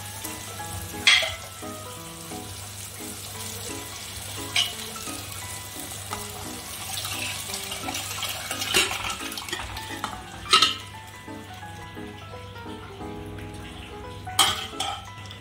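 Boiled chickpeas go into a pan of frying chana masala, with a steady oily sizzle throughout and a few sharp metallic clanks of a spoon against the pot as it is stirred.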